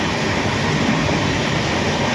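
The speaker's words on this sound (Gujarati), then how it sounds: "મોબાઈલમાં આપણે દેખાય છે 108-9 સ્પીડે જાય છે આપણી ટ્રેન" A passenger train from Junagadh to Ujjain, travelling at about 108 km/h, fills the carriage with a loud, unbroken rumble and rushing roar.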